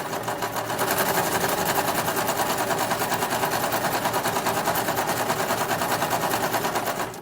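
A sewing machine runs a straight stitch along a fabric glasses case, a continuous fast rattling hum close by and fairly loud for about seven seconds, briefly starting and stopping at the ends, no talk.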